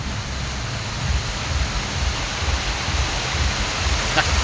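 Strong rushing floodwater in Negros surges during a heavy downpour, a dense, steady roar that fills the whole stretch at close range, with no clear voices over it.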